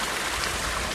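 Steady flowing stream water running near a hillside bathing spot, a continuous broadband rush with no pauses, close and fairly loud, with no voices.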